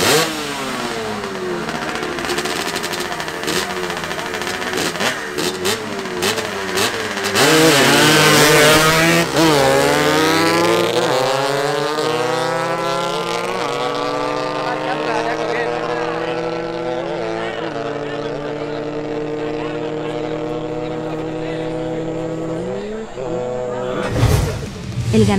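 Two Yamaha RX motorcycles drag race, one fitted with a Yamaha YZ250 engine, their two-stroke engines buzzing and shrieking as they rev hard and climb through gears, loud and close at first, then fading into the distance, with a sharp burst near the end.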